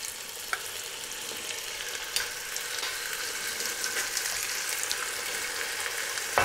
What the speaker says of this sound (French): j'ai remis un petit morceau de beurre et on va faire maintenant revenir les morceaux de viande